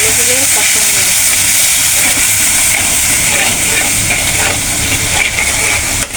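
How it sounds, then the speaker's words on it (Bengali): Water poured into frying masala of chili, cumin, coriander, turmeric and salt for a sea fish curry sizzles in a loud, continuous hiss that holds steady close up, with faint talk underneath. "পানি দিয়ে ভালো করে কষা নেব"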